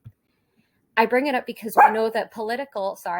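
A pet dog barks and yips a few times, close by, mixed in with a person talking steadily over it.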